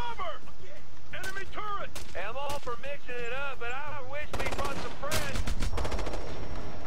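Machine gun fire in the video game Ghost Recon: Future Soldier, with short bursts of shots breaking through lively talk between several players, heaviest toward the end.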